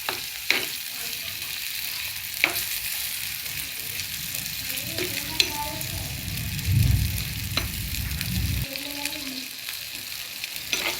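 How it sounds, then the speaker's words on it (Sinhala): Sausages fry in hot oil with chillies in a pan, sizzling steadily up close, with occasional scraping stirs and a voice talking over them. "මේක මේ ටිකක් පාට වෙනකන් දුඹුරු පාට වගේ වෙනකන් ටිකක් බැද ගන්න ඕනේ."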